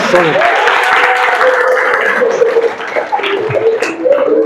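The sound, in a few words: applause for the students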